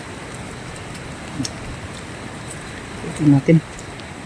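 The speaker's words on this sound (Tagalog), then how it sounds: "sobrang lakas ng ulan dito." Heavy rain pours during a flood, a steady broadband hiss filling the whole clip, with someone speaking briefly over it and a couple of short louder bumps near the end.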